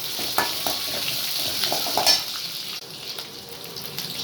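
Ginger and green chillies fry in hot oil for rava upma, a steady close sizzle with crackling pops and light stirring clinks, without talk.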